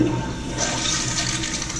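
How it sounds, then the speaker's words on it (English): A toilet flushed with its push button, steady rushing and swirling water that starts at once and carries on at an even level, close and loud, with no one talking. "That's the flush button."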